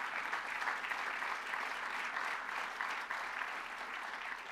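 Applause from an audience at a South Bay economic forecast event at CSUDH, a steady wash of many hands clapping, fairly faint and even throughout with no voices over it.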